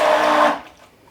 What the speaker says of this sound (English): this is an immersion blender or a stick blender. I'm going to mash it down just a little bit